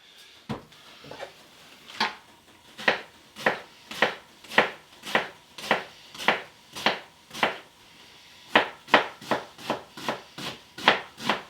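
A red onion is chopped with a knife on a board, giving a steady series of about twenty crisp, close cuts in two runs with a short pause between them and no talking.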